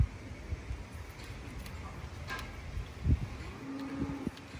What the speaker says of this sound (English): So this is the cow that we're about to breed.